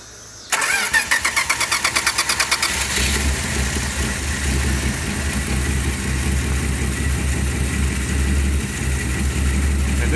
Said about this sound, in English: Start it.